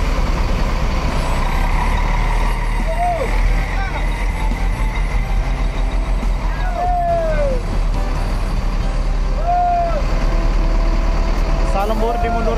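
A Salembur-bodied bus reverses at a bus depot, its engine rumbling loudly under repeated rising and falling horn-like tones, with voices talking over the noise.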